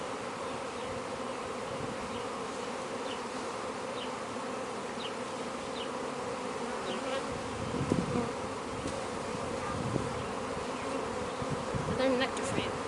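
Honey bees are emptied from hive boxes onto a cloth during a Taranov split, a dense, steady buzzing swarm close by, with occasional handling bumps.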